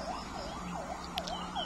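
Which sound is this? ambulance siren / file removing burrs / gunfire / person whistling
ambulance siren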